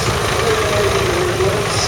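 A Lea Francis Uni-Horse vintage tractor with a USA engine runs at a steady idle during a tractor parade at a country show, a continuous mid-low engine drone with a faint high whine over it.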